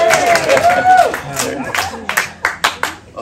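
A church congregation in Oregon breaks into scattered clapping during a Sunday sermon, the uneven claps rising over murmuring voices and growing sharper toward the end.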